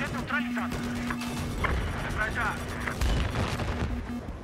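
Gunfire in a Battlefield 4 tank rush match, repeated shots and bursts crackling at mid distance beneath continuous talking from players.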